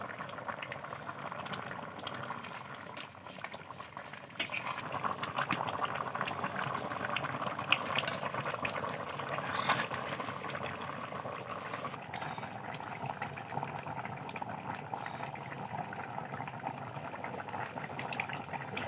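Potatoes and pumpkin boil hard in a pot over a strongly burning stove, a continuous close bubbling and churning roar with no talk.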